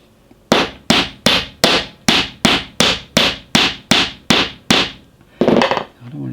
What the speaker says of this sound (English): I just have to hammer it all the way through to make this work